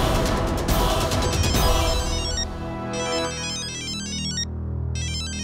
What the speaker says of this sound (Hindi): अरे लो, नीति का फोन।